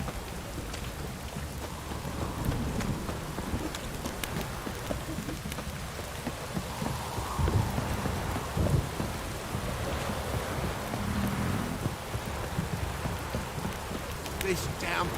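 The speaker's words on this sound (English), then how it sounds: "This downpour's a bastard, it is." Heavy rain in The Witcher 3 pours down in a dense, continuous hiss, with occasional low rumbles and faint sounds in the background.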